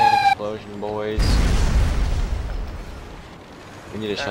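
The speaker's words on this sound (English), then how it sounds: "We have a methane explosion" A methane explosion in the sewer system erupts in the Emergency 4 firefighting game, a loud booming burst with a long rumbling decay, with voices talking over it just before.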